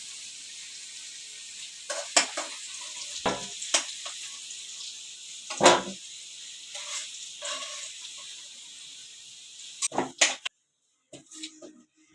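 Fried potatoes come out of sizzling oil one at a time, and a faint hiss runs under several sharp, separate scrapes and clatters before it breaks off into near silence.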